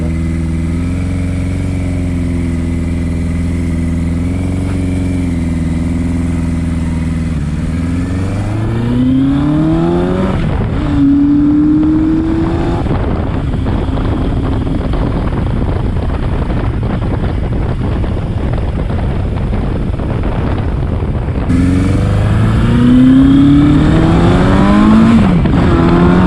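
A 1981 Suzuki GS1000GL motorcycle is ridden, its engine droning steadily and then rising through repeated revs and gear changes, loud and close under wind noise.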